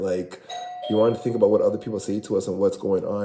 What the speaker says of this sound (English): See, that's my doorbell.